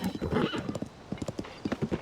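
Horse hooves in Zelda: Tears of the Kingdom, a quick rhythmic clip-clop of galloping steps with a brief neigh near the start, loud and close in the game audio.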